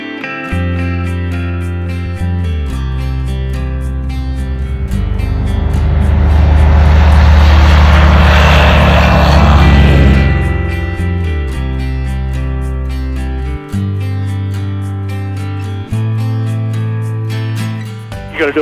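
Van's RV-12 light aircraft departing a runway, its engine a loud, steady droning roar with strong harmonics that swells to a peak at takeoff power and then shifts pitch as the climb settles, close and continuous.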